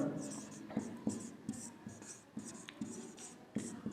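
A pen scratches across paper in short, irregular strokes while a math proof is worked out by hand, close and quiet, with soft taps between strokes.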